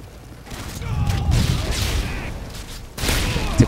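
Gunfire in the video game Modern Warfare 2 on the Scrapyard map comes as muffled bursts and booms in a busy, noisy mix, with a sharp shot near the end.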